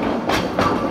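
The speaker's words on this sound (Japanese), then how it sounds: "ただいま列車は2両のアプト式専用電気機関車の後押しを受け90パーミルの坂道を登っています。" Ōigawa Railway train climbing a 90‰ gradient, pushed from behind by two Abt rack electric locomotives; a steady, loud rolling rumble with faint rhythmic rail clatter fills the whole stretch.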